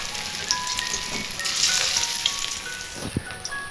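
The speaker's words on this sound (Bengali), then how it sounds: "এবার আমি বড়াগুলো আস্তে আস্তে ভেজে নেব" Shrimp fritters deep-fry slowly in hot oil over low heat, giving a steady, close sizzle with a soft bubbling crackle and the occasional sharper pop.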